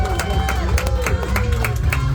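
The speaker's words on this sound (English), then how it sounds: "Come on, everybody, give him a round of applause" Scattered clapping and cheering from a tour group crowd, with a loudspeaker voice and babble over it, sharp claps dotting a steady rumble from a busy outdoor setting.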